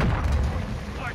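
A deep, booming grenade explosion rolls out in Warzone's Haunting event, loud and close, with a player's voice heard alongside it.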